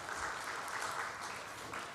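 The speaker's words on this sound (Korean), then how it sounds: "우리 환영의 박수 한번 하겠습니다" A church congregation applauds to welcome an elder back from a trip to South America, steady dense clapping filling the room without pause.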